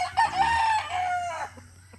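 A white Kelso rooster crows once in a backyard chicken coop, a close, loud, drawn-out cock-a-doodle-doo over a low background hum.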